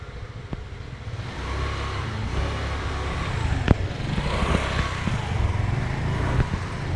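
Street traffic in Ho Chi Minh City, outside an apartment building: a constant engine rumble of passing cars and motorbikes, with a few sharp knocks and swells as vehicles go by at moderate distance, and no voices.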